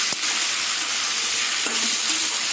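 Shrimp sizzles loudly in a pan with potatoes and onions, a steady dense frying hiss broken by a few soft clinks of stirring.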